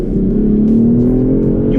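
BMW X6 M Sport SUV in normal mode, its engine roaring loudly and rising steadily in pitch as it accelerates, heard close from inside the cabin.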